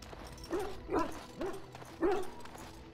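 Dog in the Dragon Age Origins game barking four times in short, evenly spaced yips at close range, clear and alone.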